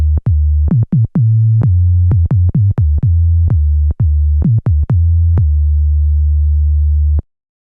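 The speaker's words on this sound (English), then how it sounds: "Or you can turn up the resonance all the way, kill the VCOs, so you can use the filter as a sine wave oscillator" A Korg Minilogue analog synth with resonance turned fully up and oscillators off lets its filter self-oscillate as a pure sine tone. The loud, steady tone is struck by a quick run of sharp clicks, then stops abruptly.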